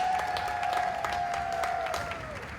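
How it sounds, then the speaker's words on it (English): Moderate crowd applause after a polo match at The Villages Polo Club, scattered clapping with a steady tonal whine running underneath, fading slightly toward the end. "Applause. What a match."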